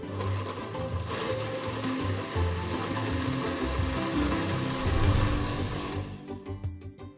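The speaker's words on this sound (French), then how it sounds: "on va tout simplement mixer" Blender whirring steadily as it purees a creamy Jerusalem artichoke soup with parmesan and nuts, a close, continuous motor drone that cuts off near the end.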